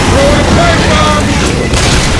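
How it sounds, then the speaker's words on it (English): Pipe bomb exploding in the video game Left 4 Dead 2, a loud, sustained booming roar with crackling debris that fills the whole moment, with voices underneath. "Throwing pipe bombs!"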